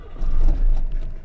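Engine of a right-hand-drive mystery car idling rough with the gas held, a low uneven rumble that swells and sags as it breaks up over about a second.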